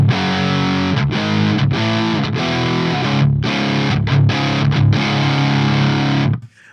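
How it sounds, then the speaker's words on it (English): Loud, close electric guitar through a Hughes & Kettner TriAmp Mark 3 on the Crunch Orange setting plays a crunchy distorted rhythm of chords broken by short stops, then rings out and cuts off. "So I'm going to be doing Crunch Orange on this first, which sounds like this."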